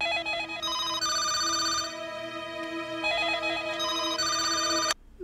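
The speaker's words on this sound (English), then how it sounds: "What an awful ringtone." An electronic phone ringtone plays a repeating melodic pattern of bright tones, loud and steady, cutting off abruptly near the end.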